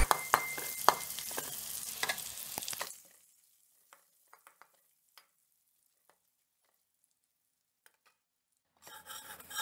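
Nuts and crushed ingredients fry and get stirred in a pan for a homemade snack mixture, a scraping, sizzling rustle for a few seconds, then near silence with faint clicks before stirring resumes.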